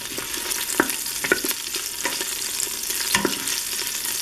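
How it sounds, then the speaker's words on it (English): Fat renders in a pan for carne guisada, a continuous close sizzle and crackle with a few sharp pops and utensil clicks, steady throughout with no voices. "I'm cooking all this fat down so we can get a little bit more grease"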